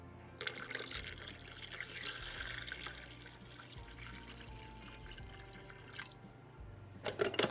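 Water poured into a blender with other recipe ingredients in a home kitchen, a steady splashing trickle lasting several seconds at moderate level, ending with a few clattering handling sounds.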